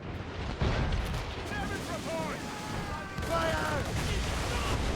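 Ship cannons fire in a naval battle in an Assassin's Creed video game, making a dense, continuous rumble of booming volleys, with voices shouting over the barrage.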